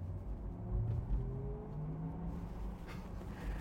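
Electric Porsche creeping along at low speed outside, giving off its artificial low hum, a steady deep rumble that holds through the whole stretch with slight swells.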